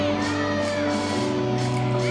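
A large crowd at a Missouri gymnastics meet against Georgia cheers steadily from the stands, a loud continuous wash of shouting and whooping with a few voices standing out, held at the same level throughout.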